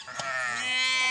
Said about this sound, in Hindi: देखो अलग अलग तरीके की भेड़